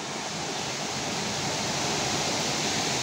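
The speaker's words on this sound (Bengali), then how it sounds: "এটা হচ্ছে ড্রেনের জল আর সেটার ওয়াটারফল হচ্ছে, সেটা পড়ছে ঝর্ণার মতো করে" Drain water pouring down like a small waterfall beside the Ganges, a dense, steady close rush of falling water that fills the whole moment without breaks, no voices.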